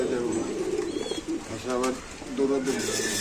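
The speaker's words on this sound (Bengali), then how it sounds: "এখানে এক জোড়া সুন্দর লাউরি কবুতর আছে" A pair of black Lahori pigeons give deep, bubbling coos in short repeated bursts, close up, while people talk nearby at a pigeon market.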